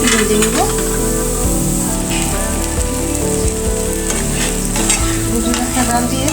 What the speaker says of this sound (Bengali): এখন দিয়ে দিচ্ছি, দিয়ে হালকা করে একটু ভেজে নিব।